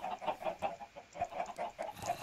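Chickens in Minecraft cluck in a quick, irregular series of soft clucks, fairly faint with no talk over them.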